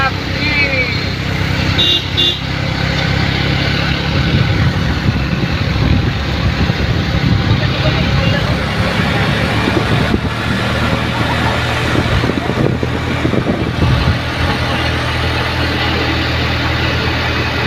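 An auto rickshaw engine runs on the Khandala ghat road: a steady, loud mid-pitched motor drone under continuous talking, with faint horn toots in traffic.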